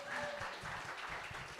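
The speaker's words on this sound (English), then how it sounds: "Let's please give a second round of applause because Ellie did that all by herself." Applause from an audience at a web development bootcamp demo day, a quiet, distant patter of clapping with a background hum and murmuring voices underneath.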